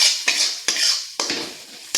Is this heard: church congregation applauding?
no